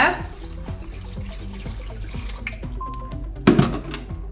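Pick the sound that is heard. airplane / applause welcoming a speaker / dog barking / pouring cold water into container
pouring cold water into container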